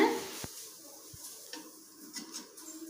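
A spatula flips food frying in a pan while making a tiffin dish from ration rice: a few faint, scattered taps and scrapes over a quiet, low kitchen background.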